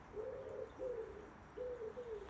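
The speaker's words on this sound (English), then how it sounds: "Yeah, there's been lots of bird chatter." Pigeons cooing in three soft, drawn-out phrases with small pauses between them, moderately near, over faint background bird chatter and no talk.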